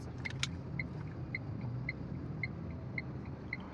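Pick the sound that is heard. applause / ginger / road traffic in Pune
road traffic in Pune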